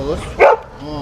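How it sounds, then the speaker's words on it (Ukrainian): A single sharp bark from a rescue service dog, brief and close, at a rescuers' professional day event, with a voice speaking over the moment. "Та найбільше школярам сподобалися службові собаки."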